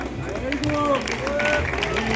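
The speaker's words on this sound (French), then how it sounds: "Les applaudissements pour Hugo" Crowd applause greets an elite runner introduced at a men's half marathon presentation, a steady wash of clapping and cheering with a public-address voice talking over it.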